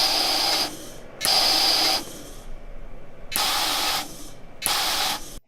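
Gas hisses sharply through a pressure regulator in four separate bursts, each about a second long with short pauses between them, loud and close with nothing else over it.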